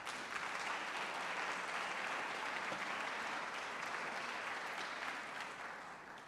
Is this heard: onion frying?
no